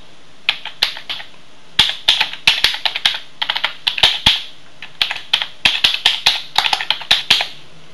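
Fingers type an email address on a computer keyboard in quick, clicking bursts of keystrokes with brief pauses, close and crisp.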